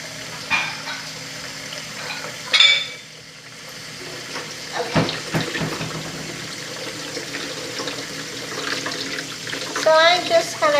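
Running tap water pours as chicken pieces are rinsed in a kitchen sink, a steady splashing hiss with occasional clatter, while a person talks intermittently.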